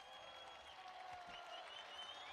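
A crowd at a college basketball championship game between Nebraska and Central Florida applauds and cheers, producing a steady, dense wash of clapping and voices that stays fairly even throughout.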